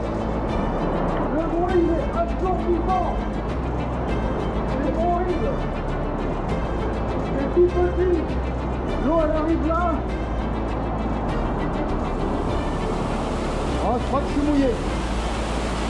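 A steady roar of an underground waterfall in a cave river fills the space, with people talking over it throughout.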